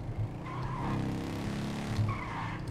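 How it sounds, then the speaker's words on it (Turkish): In GTA 5, a Harley-Davidson-style motorcycle engine gives a steady, low, rumbling drone that swells slightly twice. It plays alone, without speech. "Motorun sesi de felaket abi ya."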